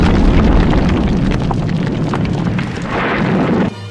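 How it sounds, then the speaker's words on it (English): A pyramid blows up in a Thunderbirds episode with a loud, sustained roaring blast of debris and fire that rumbles on for several seconds before cutting off abruptly. "the lost Pyramid of Commandades goes off with a bang"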